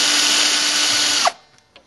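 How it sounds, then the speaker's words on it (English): Cordless drill driver whirring steadily as it backs out square-drive screws on a chest freezer lid, then the motor cuts off with a faint clack, close and loud. "So I'm going to use my drill driver here, cordless drill driver, and these screws are square drive or flathead."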